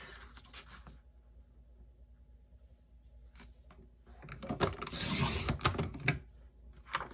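Paper being trimmed on a cutter for a Creative Memories scrapbook page: faint mechanical creaks and clicks early, then a louder sliding, rasping cut near the end, with no talk.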